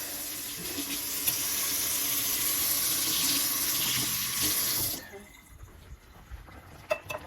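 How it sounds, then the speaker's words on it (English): Tap water runs steadily into a kitchen sink for about five seconds as food is rinsed, then cuts off, leaving a few faint clinks and handling noises. "Now I gotta rinse that off."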